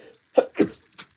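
A person sneezes in a quiet indoor room, two short explosive bursts close together followed by a fainter third catch, close to the listener with no talk.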